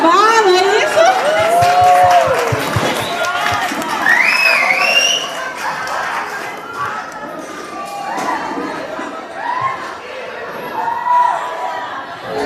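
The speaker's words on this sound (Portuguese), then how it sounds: "vamos aplaudir a dona Irismar" Audience at a school sharing-night gathering cheering and clapping, with shouts, children's voices and lively crowd chatter mixed throughout.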